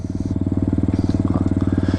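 A small motorcycle engine runs steadily while riding, giving a close, loud, fast pulsing putter with an even rhythm throughout.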